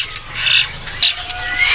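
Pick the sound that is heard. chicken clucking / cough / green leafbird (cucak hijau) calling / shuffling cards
green leafbird (cucak hijau) calling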